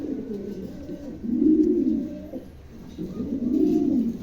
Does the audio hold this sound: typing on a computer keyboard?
no